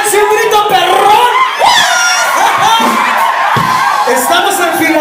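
Crowd shouting, whooping and cheering on a cold Philadelphia street, loud and continuous with voices yelling close by throughout.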